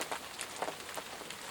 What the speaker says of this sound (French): Aujourd'hui, il pleut sans cesse.